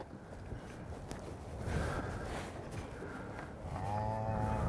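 Cattle in a handling pen low and moo while the herd shuffles out through the gate, with a clear drawn-out moo near the end over steady background movement.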